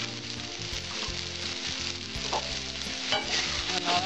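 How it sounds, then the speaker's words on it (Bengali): Drumstick flower ghonto being stirred in a pan with ghee, the spoon scraping and clattering in repeated strokes over a constant sizzle, close and fairly loud. "নাড়াচাড়া দেবো, নামিয়ে দেবো।"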